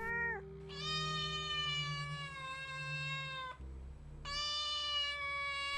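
A cat gives two long, drawn-out meows with a short gap between them, close and clear with nothing else behind it.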